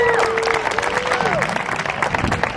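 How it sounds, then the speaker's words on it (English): Crowd at a community awards event applauding a partner organisation, steady clapping with some cheering, and a voice speaks over the start. "I want to give them a big round of applause"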